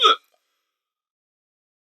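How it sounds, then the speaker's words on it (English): A single short hiccup, close and abrupt, followed by silence. "That fake Alienware cough gave me the hiccups."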